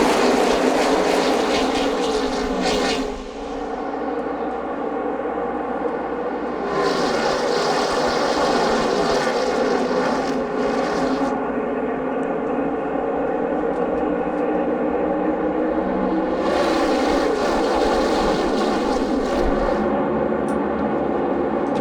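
NASCAR stock cars racing at Talladega Superspeedway in 2011, a loud, continuous engine roar from the racing pack that swells and fades as cars pass, with no talking.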